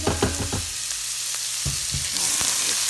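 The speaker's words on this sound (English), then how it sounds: "Stir that together." Tuna noodle pasta being stirred in a pan, with a few sharp scraping clacks of the utensil early on and a steady soft sizzle continuing underneath, close and moderately loud.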